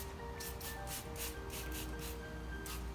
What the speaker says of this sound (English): I'm gonna go ahead and put it on stream, actually spray.